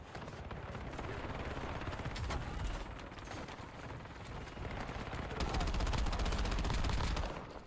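Gunfire in Warzone on Rebirth Island, with dense bursts of automatic shots and mechanical clatter that stay fairly faint and swell louder toward the end.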